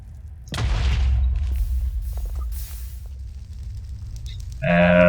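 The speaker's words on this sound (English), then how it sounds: "If you're in iron armor or worse, probably you don't need to be doing the bed explosion." Bed explosion in the Minecraft Nether: a sudden loud boom with a broad crackling burst that decays over a couple of seconds, followed by faint game noises and a brief louder burst at the end.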